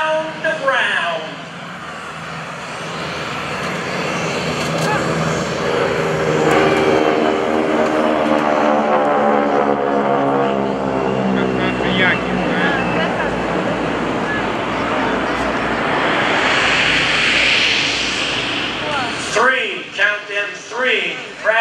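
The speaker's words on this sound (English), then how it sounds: "coming inbound right now, ladies and gentlemen, the North American T-6 Texan. Let's listen to the sound of round." A North American T-6 Texan with a Pratt & Whitney R1340 radial engine makes a loud, droning flyby at an airshow, its pitch sweeping downward as it passes. An announcer speaks over it, and the roar swells and fades.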